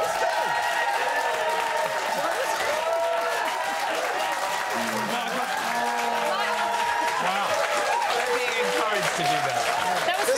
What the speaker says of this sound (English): Telling those people who have no idea who I am to clap like that.